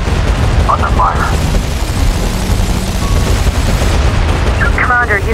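Dense, continuous gunfire and explosions from the video game SOCOM 4: U.S. Navy SEALs, loud and relentless, with brief radio-style voice chatter cutting through.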